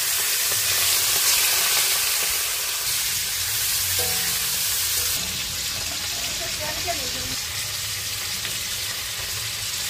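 Prawns fry in hot oil in a wok, a bright crackling sizzle that stays busy throughout, with a few clinks of utensils and some faint talk in the room.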